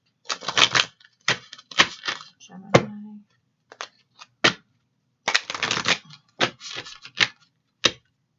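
Tarot cards being shuffled in quick, crisp riffling bursts, stopping and starting, while a person speaks briefly in between.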